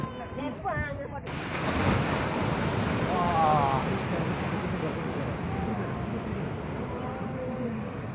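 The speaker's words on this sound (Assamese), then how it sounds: "ইয়াত ঢৌ কেনেকৈ উঠিছে চাওক কিয়া প্ৰকাণ্ড মানে ঢৌ" Huge waves of the Arabian Sea break along the shore in a continuous, loud surging roar, mixed with wind buffeting the microphone; a voice talks briefly at the start.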